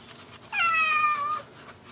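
A cat meows once in a long, drawn-out, fairly loud cry while being bathed and shampooed during a lion-cut grooming session, with quiet background before and after.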